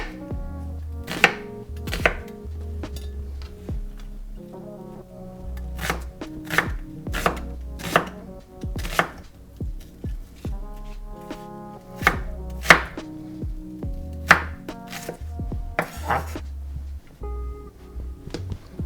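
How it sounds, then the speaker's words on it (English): A knife chops an onion on a cutting board while lobster bisque is being prepared, giving a steady series of sharp, close chopping strikes spaced through the clip, with some faint background tones underneath. "Just have time to cut our onion."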